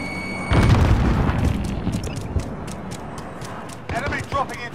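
A grenade goes off in a video game with a loud, close boom that rumbles and fades over a few seconds, followed by scattered clicks and a voice talking.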